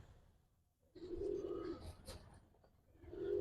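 Pigeons, including a red Muslidum, coo softly in low, throaty bursts, with a short pause between calls and faint background rustling.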